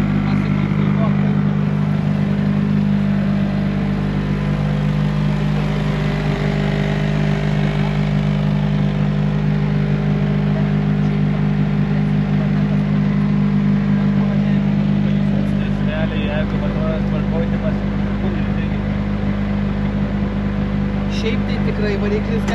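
A rally car engine runs at a winter rally in Rokiškis, giving a loud, steady drone with a low rumble that lasts throughout, while voices talk faintly over it.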